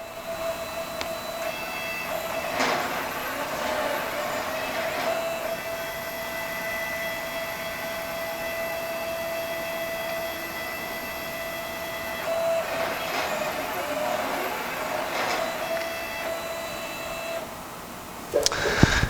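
A CrossFire CNC plasma cutting table runs a dry pass with the torch off, giving a steady mechanical whine and hum from the moving gantry, with brief surges of motor noise along the way and a short clatter at the end.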